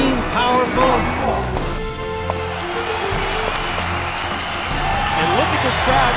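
Horse show crowd on its feet applauding a champion show jumper: a steady wash of clapping and cheering fills the arena, with an announcer's voice running over it.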